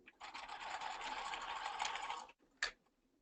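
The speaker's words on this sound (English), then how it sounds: "So here I'm definitely back stitching." A sewing machine runs a steady, buzzing back stitch through heavy stretch mesh for about two seconds, then stops, followed by a single sharp click; quiet and close, with no talk.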